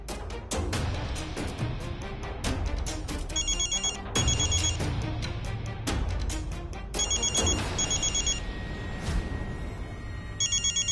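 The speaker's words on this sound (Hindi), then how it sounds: "अब फोन उठावे खातिर तो रजो चाची बेड से जरूर उठा।" A telephone rings indoors at night in a drama scene, with repeated ring bursts standing out over a dense, busy background bed of music and sound effects.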